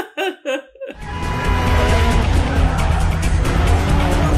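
A car in a Fast and Furious film chase drifts through traffic with a loud, sustained engine roar and squealing tires that fill the scene, following a moment of laughter and voices.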